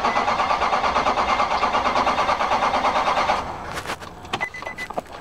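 The 5.6L engine of a Nissan Titan SE pickup runs with a steady, even mechanical drone, then cuts off abruptly partway through, leaving brief clicks and knocks from inside the cab.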